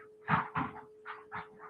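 A dog making vocal noises indoors, a series of about five short yelps or whines in uneven bursts, fairly close, with a steady electrical hum underneath.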